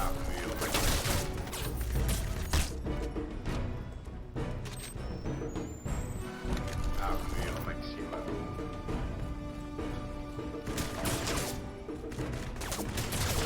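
Rapid gunfire rattles through a shooting video game during a stream, dense bursts and game effects running continuously while a player talks excitedly over them.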